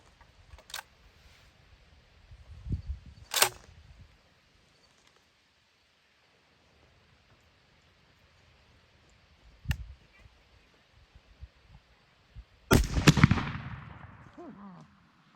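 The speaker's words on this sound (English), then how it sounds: "we're gonna take the first shot with the Black Mamba. This is gonna be at 20 yards." Shotgun fired with a Black Mamba choke tube at 20 yards outdoors, a single loud sharp blast with a ringing decay, preceded by a few faint clicks and handling noises in near silence.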